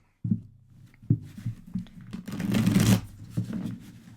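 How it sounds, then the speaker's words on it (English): A tarot deck is shuffled up close, with a few riffling bursts building to a longer, louder flutter of cards before tapering off, with no voices. "Let's give her a shuffle."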